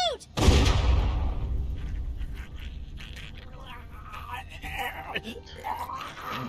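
A single loud gunshot cracks out near the start in The Walking Dead game, close and sharp with a short ringing tail, followed by a tense game score and a voice speaking.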